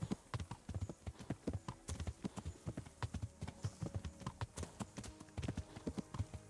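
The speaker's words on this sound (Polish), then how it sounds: "O, koń się męczy." Horse hooves clip-clop in a steady, rhythmic trot in the medieval game Kingdom Come: Deliverance, close and clear with no voices over them.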